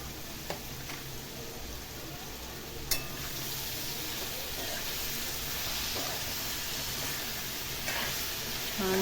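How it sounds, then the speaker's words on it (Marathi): Grated jaggery and mango pieces are stirred and sautéed together in a pan, giving a soft continuous sizzle with a few sharp spoon scrapes and clinks, close and fairly quiet. "आता आपल्याला व्यवस्थित ते मिक्स करून घ्यायचे"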